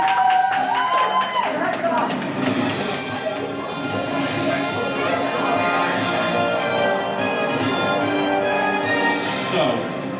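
Audience at an anime convention game show clapping and cheering together, a broad sustained wash of applause with scattered voices and talk mixed throughout.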